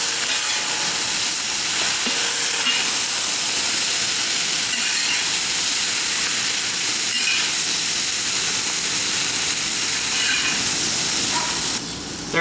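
Vegetables stir-frying in a large outdoor bird bath wok make a loud, continuous sizzle and steamy hiss that holds steady with faint scraping now and then.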